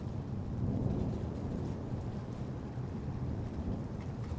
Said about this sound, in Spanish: La lluvia golpeaba el techo de lámina con un ritmo irregular